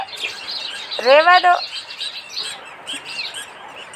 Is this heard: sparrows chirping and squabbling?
yes